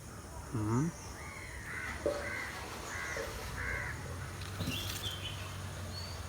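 Crows caw in short hoarse calls, one close and loud burst early then several more spread across a few seconds, over faint outdoor background in a spot where birds, bats and squirrels eat fruit from the trees.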